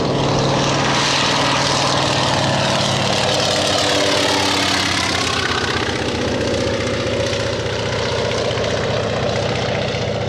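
A propeller aircraft engine roars loud and steady throughout, a thick low-pitched drone whose pitch shifts slightly midway as the plane begins its takeoff run, with no talk over it.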